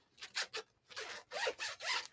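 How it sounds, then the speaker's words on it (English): A small zipper on a Stash Dashers bag is pulled in several quick rasping strokes, close and quiet, with short pauses between pulls. "And it's got this little zipper."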